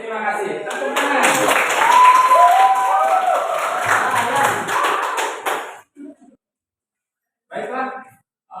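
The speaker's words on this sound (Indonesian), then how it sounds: "Tepuk tangan." A classroom of students claps together for several seconds, a dense burst of hands with voices mixed in, then it cuts off abruptly and a voice speaks in the quiet afterward.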